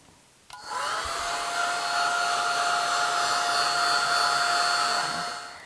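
A hair dryer switches on with a click and blows a loud, steady whine and rush of air over a gesso-primed art board, running evenly for several seconds before winding down.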